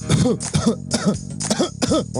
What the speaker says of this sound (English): If Bo Diddley coughs in his distinctive ham bone rhythm, how would it sound?